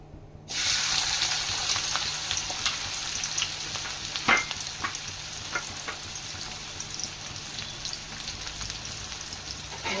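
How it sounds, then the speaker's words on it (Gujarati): Onion drops into hot oil and starts sizzling, a sudden loud onset of steady frying hiss after a brief silence, with occasional crackles and pops throughout. "તમે જોઈ શકો છો તેલ ગરમ થઈ ગયું છે. તો હું એમાં નાખીશ ડુંગળી."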